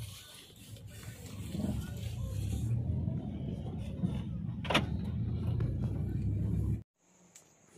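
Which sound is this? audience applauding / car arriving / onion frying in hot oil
car arriving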